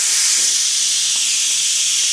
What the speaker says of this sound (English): And that will quickly release the steam.